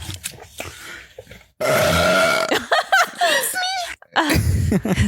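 A loud, drawn-out burp erupts from a person sitting in a car, surrounded by talk and chuckling.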